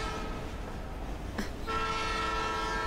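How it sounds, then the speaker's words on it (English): A train rolls past steadily outdoors, its broad rumble and rattle filling the air, and a long horn-like tone joins in partway through. No one speaks. "That train is moving a lot faster than you think."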